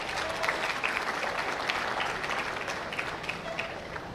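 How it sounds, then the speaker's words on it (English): Audience at a 4-H/FFA beef show claps in a steady, dense round of applause, moderately distant and even in level throughout. "Let's give them a round of applause for that, if you would"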